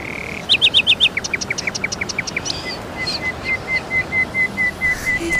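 A person whistles an imitation of a nightingale's song, a quick run of bright repeated trills followed by a steady series of evenly spaced chirping notes, close and clear with no talking.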